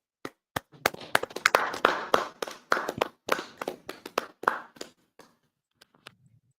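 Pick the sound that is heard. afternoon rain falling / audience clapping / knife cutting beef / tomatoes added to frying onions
audience clapping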